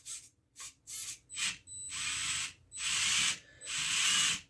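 Motor and transmission of a 1:24 scale FMS Max Smasher RC truck powering up, short whirring bursts followed by longer sustained high-pitched whines, close and fairly quiet.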